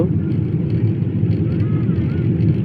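Aircraft cabin noise during landing approach into Dhaka airport, a steady loud low roar of engines and airflow filling the whole stretch with no break.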